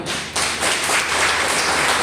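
Seminar audience in Ambala clapping on cue, a burst of dense applause starting sharply after a brief pause and sustained at a loud, even level to the end.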